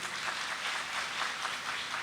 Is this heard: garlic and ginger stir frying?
no